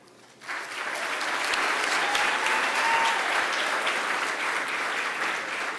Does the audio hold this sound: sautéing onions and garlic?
no